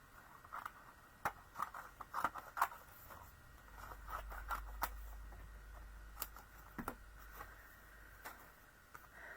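Scissors cutting across paper in a craft project: soft, irregular snips and crisp ticks at close range, spaced through a quiet room with a low hum underneath.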